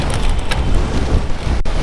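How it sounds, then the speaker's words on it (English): Strong gusty wind buffets the microphone outdoors on a commute, a loud, rough, continuous rumble with pulsing gusts and a brief dropout near the end. "Windy as hell out here."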